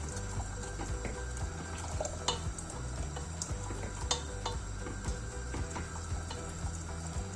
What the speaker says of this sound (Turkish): Yemeğine yeteri kadar suyumu koyduğumu düşünüyorum ve pişmeye bırakıyorum.